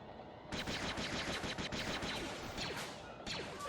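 Rapid automatic gunfire in Jedi Knight: Jedi Academy, multiplayer on Tatooine, sounds loud and close as dense bursts of shots that run almost without pause, with a brief break near the end.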